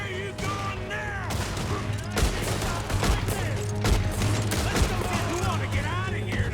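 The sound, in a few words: gunfire from a shootout in the video game Red Dead Redemption 2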